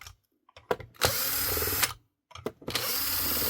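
A weak, slow tire air compressor built into a NEBO Ultimate battery pack runs in two bursts, each a loud buzzing mechanical whir that starts and stops abruptly, separated by brief silence.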